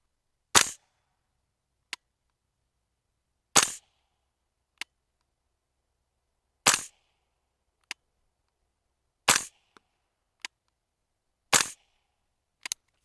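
A Unit Solutions BB training rifle fires at a target 30 yards away: five sharp, loud cracks spaced about three seconds apart, each followed about a second later by a faint tick of the BB landing downrange.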